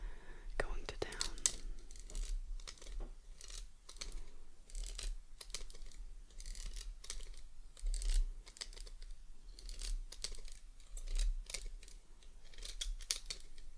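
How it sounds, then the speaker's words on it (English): Silly novelty scissors snip repeatedly close to the ear while cutting hair, making crisp, quiet, irregular clicks and shears with soft whispering underneath. "once you start like snipping them more and more, they get easier and they sound a little bit better"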